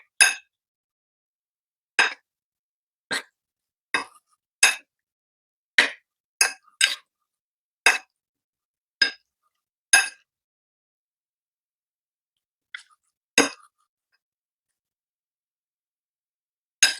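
A utensil striking a bowl while beef is mixed with cornstarch and sesame oil into a marinade, heard as sharp isolated clinks, about one every second, close and clear against near silence, with a longer pause before a few final taps.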